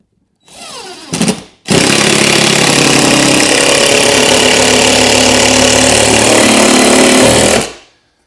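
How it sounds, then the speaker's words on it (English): A power drill drives screws into wall studs for pantry shelves, a brief whir and then one loud, sustained motor whine for about six seconds, close and with no talk. "So we're simply gonna go around and put a screw in every stud."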